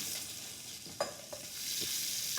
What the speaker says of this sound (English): you see the mustard seeds straight away Yeah. are sizzling